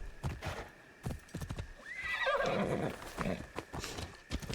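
A horse in the video game Assassin's Creed Shadows stamps and clops its hooves in scattered beats, then gives a clear, drawn-out whinny midway before the hoofbeats resume, all fairly quiet.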